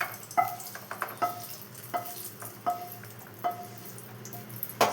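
Sabudana (sago pearls) roast in a pan, with soft, regular scraping and stirring strokes against a faint sizzle, close and fairly quiet.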